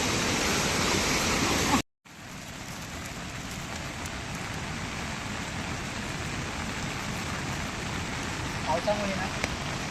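Steady heavy rain falls outdoors, a dense continuous hiss that stays loud and even throughout, broken by one brief cutout.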